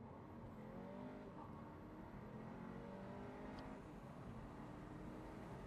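A 2025 Mini Cooper JCW convertible accelerates hard from a standstill toward 60 mph, its engine note climbing steadily in pitch through the gears, heard from inside the cabin over constant road and wind noise.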